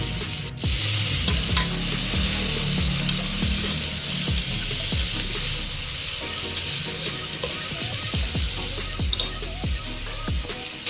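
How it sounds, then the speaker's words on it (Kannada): Chopped onions frying in a pan with cloves, kasuri methi and fennel, a steady loud sizzle under repeated scraping stirs of a spoon against the pan, close up with no talking. "ಈರುಳ್ಳಿ ಸ್ವಲ್ಪ ಫ್ರೈ ಆಗಲಿ ಅಂತ ಹೇಳಿ ನಾನು ಈರುಳ್ಳಿಗೆ ಸ್ವಲ್ಪ ಸಾಲ್ಟನ್ನ ಹಾಕ್ಕೊತೀನಿ"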